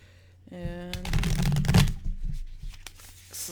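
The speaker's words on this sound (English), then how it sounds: "this is like so hard to shuffle with a cat in my lap" Tarot cards being shuffled by hand with a cat in the lap, a dense papery riffle that swells to a loud burst midway, then softer scattered card slaps, close up.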